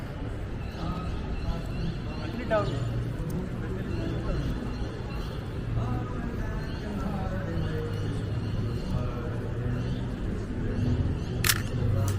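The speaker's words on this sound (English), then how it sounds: "You do have to like the shutter sound." A film camera loaded with ISO 100 film and fitted with a 28mm lens fires its shutter once, a single sharp click near the end, over steady outdoor background noise and nearby talk.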